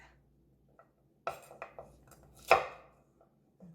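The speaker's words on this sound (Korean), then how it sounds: "부서지기가 쉬우니까요. 조심스럽게 썰어주세요." Boiled chestnuts are sliced with a knife on a cutting board for a rice cake, giving several separate crisp chops with short gaps between them, close and clear, and the final cut is the loudest. No one speaks.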